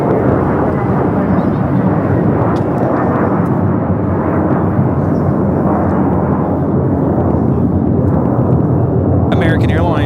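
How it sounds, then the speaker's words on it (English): An American Airlines Airbus A321 jet takes off at LAX with a loud, continuous roar that dominates throughout and holds a deep rumble, ending with a brief higher-pitched whine. "American Airlines 1402 taking off to Dallas Fort Worth on the A321 in the flagship Valor livery."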